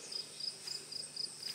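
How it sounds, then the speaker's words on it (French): Small crickets chirp in short, evenly spaced bursts outdoors at a field's edge beside a large pine, faint and rhythmic against quiet surroundings. "On entend les petits grillons."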